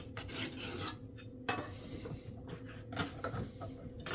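A file draw-filed across a card scraper edge after grinding, giving quiet, close rasping strokes that repeat at an uneven pace with no talking.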